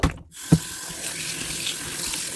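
Tap water runs steadily into a sink while vegetables for kimchi are rinsed, after a brief knock near the start, a constant close splashing hiss.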